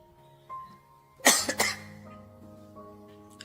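A sharp double cough bursts out up close, two quick harsh hacks in a quiet room with a faint hum behind.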